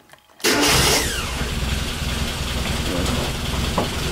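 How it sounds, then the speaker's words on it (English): A car engine cranks and catches after a short quiet moment. It starts with a loud burst and a brief rev, then settles into a steady close idle. "With the engine running"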